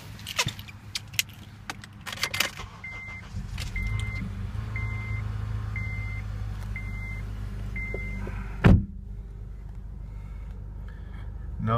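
A 2012 Acura TSX Wagon engine turns over and settles into a low, steady idle, accompanied by a row of evenly spaced dashboard chime beeps and a single sharp thump near the end.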